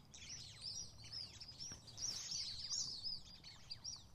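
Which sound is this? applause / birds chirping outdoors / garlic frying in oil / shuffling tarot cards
birds chirping outdoors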